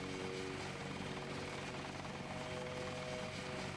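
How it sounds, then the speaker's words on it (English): Helicopter flying overhead in the video game Deus Ex, a steady, dense rotor chop with a low thudding pulse that fills the whole clip at an even level. "I hear a helicopter around here too."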